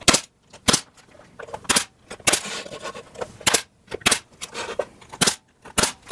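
A stapler drives staples into the wooden joints of a hat holder, giving sharp, close snaps in an uneven series of about a dozen shots with quieter handling noises between them.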